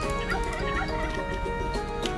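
Turkey gobbling and fowl clucking in a castle-age strategy video game, repeated bird calls riding over steady game music and ambience at a constant level, with no voices.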